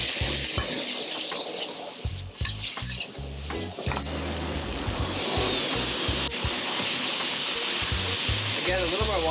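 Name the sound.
water added to pad thai noodles sizzling in a hot pan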